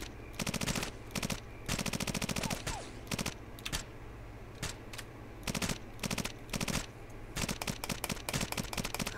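Rapid bursts of automatic gunfire from the video game Ghost Recon, loud and close, with repeated volleys and short pauses between them throughout.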